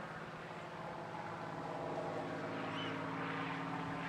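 P-51D Mustang propeller fighter making a topside pass at an air festival, a faint, steady droning engine hum with a slowly shifting pitch at a distance.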